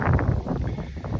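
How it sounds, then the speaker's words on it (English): Steady outdoor wind gusting beside a lake, a loud, continuous low rumble of wind buffeting the microphone with no voices. "It's awful windy out here"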